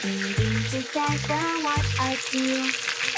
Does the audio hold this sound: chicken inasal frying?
yes